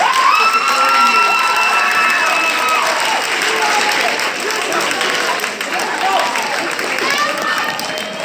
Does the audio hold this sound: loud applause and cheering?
yes